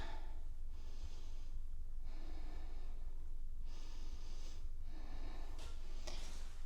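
Deep nasal breaths drawn in and out during a yoga compression flow, several slow rhythmic inhalations close to the microphone over a constant low background hum, with no talking.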